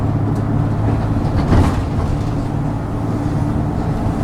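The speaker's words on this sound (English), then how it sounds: "Actually, it's quite very quiet, this bus, isn't it?" Quiet interior of a moving trolley bus passing through a village, a steady low electric hum and rolling rumble holding an even level throughout, with a brief swell midway and no voices.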